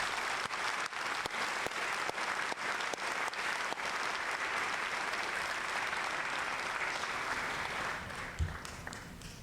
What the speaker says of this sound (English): Please give our drill sergeants a round of applause.